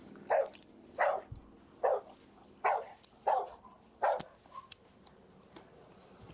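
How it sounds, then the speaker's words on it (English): A dog in a car barks in a regular series of sharp yips, about six of them evenly spaced, with whimpering between them at close range. No one speaks. "He's trying to be a good dog."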